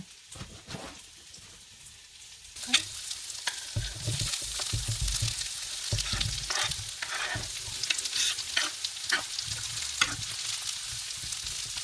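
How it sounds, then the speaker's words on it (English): Shallots fry in oil in a pan on a stove, starting quiet and then breaking into a bright, steady sizzle with crackles and occasional stirring scrapes, close up and without voices. "You can hear the shallots sizzling on the stove."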